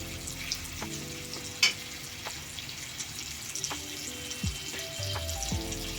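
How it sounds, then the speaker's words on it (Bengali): Ginger, garlic and onion paste fries with softened tomato pieces in oil, making a steady close sizzle punctuated by sharp spatula clinks and scrapes against the pan, with no one speaking. "টমেটোগুলো একটু নরম হলে এর মধ্যে দিয়ে দেবো আদা রসুন পেঁয়াজ বাটা"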